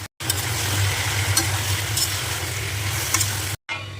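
Meat sizzles and crackles steadily in hot oil in a pan, a loud continuous frying hiss with occasional stirring, cut off briefly at the start and near the end.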